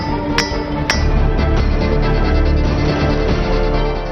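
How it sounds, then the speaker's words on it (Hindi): Stones struck against stones at a ringing-rock site near a temple, a few sharp clinks standing out over a dense, noisy outdoor background. "बिल्कुल वैसी ही आवाज, पत्थर से पत्थर टकराना।"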